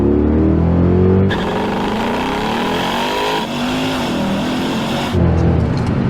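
A 507 hp Mercedes W211 E-Class AMG engine roars loudly and steadily while driving, with a deep V8 drone that shifts in pitch as revs rise and fall, close and continuous with no talk.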